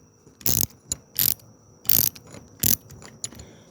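Wrench ratcheting as a rocker locker is tightened down on a 1989 Harley Sportster, several loud bursts of clicking with short pauses between them, close up with no talking.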